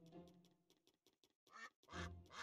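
Cartoon-style duck quacks in a Peppa Pig video game, a rapid series of short, clear quacks that builds into longer, louder calls toward the end, with no talk over them.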